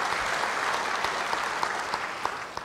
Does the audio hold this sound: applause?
yes